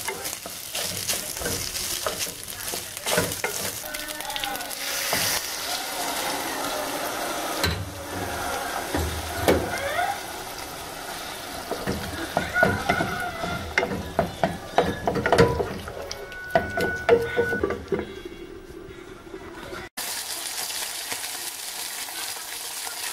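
Onions and tomatoes fresh from the freezer fry and sizzle in a pan, with steady crackling, repeated stirring scrapes and clanks of a utensil, close and fairly loud with no talking, and a brief pause near the end.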